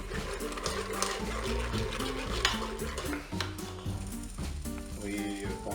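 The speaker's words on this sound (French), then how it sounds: "pensez à bien remuer de temps en temps pour pas que ça accroche au fond" A spoon stirs a milk chocolate and condensed milk cream mixture in a Cookeo cooker, steady scraping and sloshing with a faint sizzle of cooking, close and continuous under background music.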